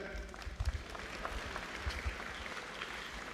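A commencement audience applauds, producing a steady, distant wash of clapping across the hall with occasional low thumps, faint and continuous.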